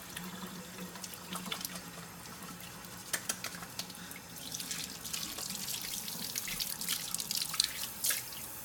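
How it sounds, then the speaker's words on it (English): Tap water running into a sink for hand washing, a steady splashing flow with scattered drips and small clinks, fairly close and without talk. "you gotta wash your hands. Get some water, some soap,"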